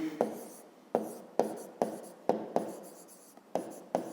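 Pen or chalk writing out a fifth-grade math solution: a series of about nine short scratchy strokes in an uneven rhythm, close and moderately quiet, with no speech.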